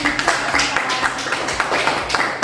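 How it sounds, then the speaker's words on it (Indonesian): Students in a high school classroom clap for a classmate, a steady, dense patter of many hands at close range sustained throughout. "tepuk tangan buat Mbak Intan"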